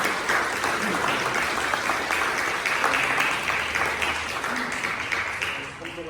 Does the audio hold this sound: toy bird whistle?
no